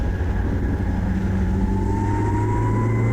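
A historic Formula Ford race car engine holds fourth gear in a steady, loud, continuous drone, its pitch rising gradually as the car gains speed, with no talk over it.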